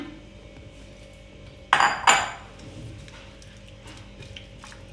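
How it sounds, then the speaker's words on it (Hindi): Meat goes into a pressure cooker in a home kitchen: two quick metallic clanks of pot and utensils ring out close together, then fade back to a quiet room hum with no voices. "अब मैं प्रेशर कुकर में गोश्त डाल के इसको बॉइलिंग के लिए रखती हूँ।"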